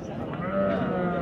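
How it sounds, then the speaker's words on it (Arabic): A sheep bleating at a weekly livestock market near Ouazzane, a single drawn-out nasal bleat heard close, with market noise around it. "خروف زين هذا"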